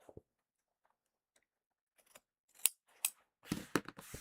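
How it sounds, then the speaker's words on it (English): Scissors snip through fabric while trimming the corners of a sewn tote bag: scattered single cuts, then a quick cluster of close, crisp snips near the end, with no talking. "we're going to trim these corners to reduce bulk"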